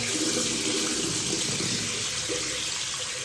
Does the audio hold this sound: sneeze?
no